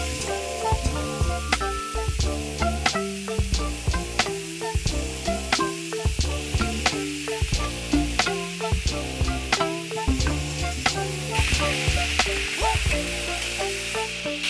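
Beef strips frying in a hot pan with sesame oil, a steady loud sizzle with repeated sharp scrapes and clatters of stirring running across the whole stretch.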